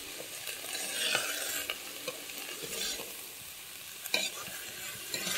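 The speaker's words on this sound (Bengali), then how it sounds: "দিয়ে আমি এটাকে ভালোভাবে নেড়ে নেব।" A spoon scrapes and stirs cabbage curry with hilsa fish head, salt and turmeric in a hot pan, the rhythmic stirring strokes riding over a steady sizzle of frying, close and clear with no talking.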